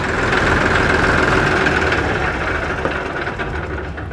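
A 2023 Massey Ferguson 246 DynaSmart tractor engine runs at a steady, loud, close-up idle with a deep rumble and no talking.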